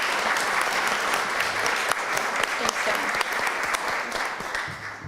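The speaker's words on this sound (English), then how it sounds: "could we have a round of applause for our speaker, please?" Audience applause for a speaker at a Sunday forum, a full, continuous patter of many hands clapping at steady volume, with a few sharper claps standing out.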